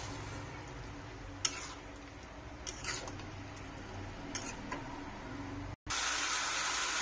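Hot water is poured into a pan of cooking jackfruit curry, a soft, steady splashing gush with a few small knocks, then a brief cut followed by a louder rushing pour.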